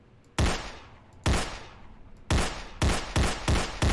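Video game gunfire rings out in sharp, loud single shots, two spaced blasts followed by a quicker run of four, each with a decaying tail, no talking.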